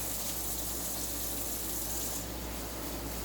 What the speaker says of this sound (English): We're rinsing the arugula.